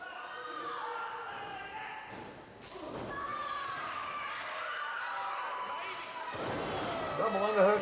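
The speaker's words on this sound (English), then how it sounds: "Double underhook, sit down power bomb." At a 2008 TXW pro wrestling event, a wrestler is driven onto the ring mat by a double-underhook sit-down powerbomb, a heavy thud standing out over a noisy crowd and ringside commentary, with another impact following a few seconds later.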